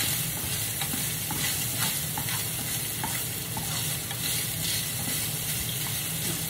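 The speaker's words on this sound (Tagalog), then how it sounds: "Igisa natin ng konti yung sibuyas." Onions sautéing in a pan, with chopped hotdog and chili nearby, as a pizza topping. A steady close sizzle runs throughout, with scraping stirs and small taps of a utensil against the pan.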